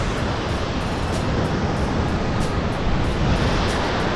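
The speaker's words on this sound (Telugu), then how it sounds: "ఫైనల్లీ మనం ఆటుగాడ్ వాటర్ ఫాల్కి అయితే వచ్చేసినాము చూడండి వెనకాల సౌండ్" Attukad waterfall near Munnar roars in a forest setting, a loud constant rush of falling water with some wind buffeting at the microphone.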